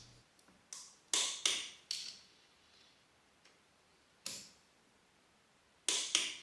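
Torque wrench tightening the camshaft clamp bolts on a Yamaha YZF1000R Thunderace engine to 10 Nm, giving sharp close metallic clicks in short pairs and singles spread across quiet gaps.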